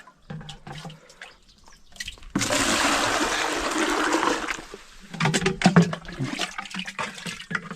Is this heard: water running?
yes